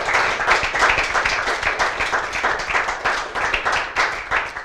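Crowd at an Italian cross-country mountain bike race claps steadily, many hands beating in a dense, fairly even rhythm that holds at full level for several seconds.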